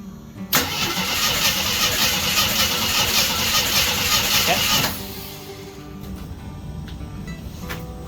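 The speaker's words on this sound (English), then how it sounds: "I'm going to crank it over, please." A 1976 AMC Gremlin engine cranks over with a loud, even starter churn lasting about four seconds, then cuts off into quieter background with a few clicks.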